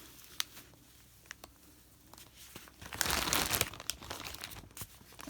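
Close rustling and crinkling of packaging as a tuft of Corriedale wool fibre is pulled out, with scattered small clicks, then a louder burst of crinkle in the middle.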